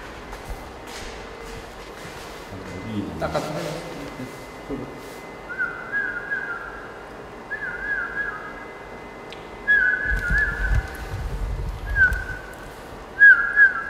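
A series of short, clear human whistles repeated at intervals over a low background rumble, whistled to a crested ibis egg in an incubator.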